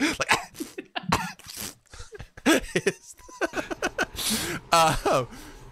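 A voice imitates coughing with a run of harsh, throaty bursts and gasps, close and fairly loud, some breathy and strained.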